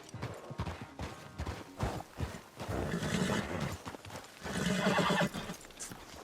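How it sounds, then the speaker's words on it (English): A horse whinnies amid clattering hoofbeats and background commotion after a race in the video game Red Dead Redemption 2, with a long shrill neigh rising toward the end. "Damn horse acting up on me."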